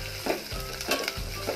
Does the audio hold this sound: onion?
yes